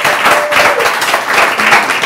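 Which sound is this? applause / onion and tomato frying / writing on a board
applause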